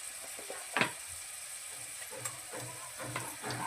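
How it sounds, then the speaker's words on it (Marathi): Garam masala and coriander-cumin powder fry quietly in a pan for a Bhogi vegetable dish, giving a soft, steady sizzle and hiss with a few sharp scrapes and clinks from stirring. "गरम मसाला, धना जिरा पावडर थोडं परतून घेऊया"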